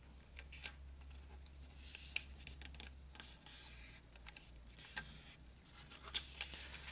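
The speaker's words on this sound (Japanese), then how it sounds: "折り紙を半分に折ります。" Origami paper folded in half with soft crinkles, creases and light scratchy rubs, quiet and close against a low hum, with no talking.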